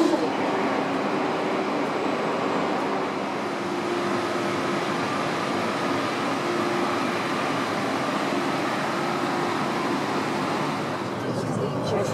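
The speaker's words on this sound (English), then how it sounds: "a comfortable half-hour ride on the Renfe Express train" Steady rumble and rattle inside a moving Renfe Express train between Madrid and Toledo, a continuous even roar throughout.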